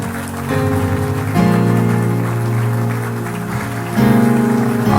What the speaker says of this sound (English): I don't know why you're clapping like your hand is spinning.